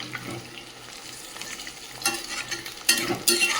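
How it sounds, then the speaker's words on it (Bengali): Pakoras frying in hot oil, a steady crackling sizzle with occasional louder bursts of bubbling and scraping near the pan, no voices. "এদিকে পকোড়াগুলো ভেজে নিচ্ছি।"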